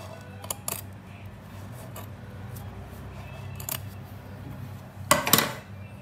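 Scissors snipping through lampshade fabric to trim an overlap, a few sharp isolated cuts spread out and a louder cluster of snips near the end, close and quiet over faint room hum.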